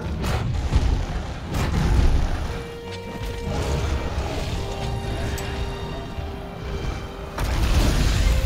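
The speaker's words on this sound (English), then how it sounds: "Not sure if that flashbang hit him." A flashbang goes off in Monster Hunter World, a loud booming burst over dense game sound, with sustained noise and a sharp bang again near the end.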